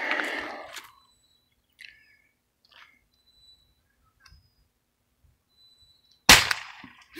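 A custom-built airgun fires a steel core gumdrop slug with one sharp, loud, close crack near the end, after a stretch of near silence broken only by faint chirps and small clicks.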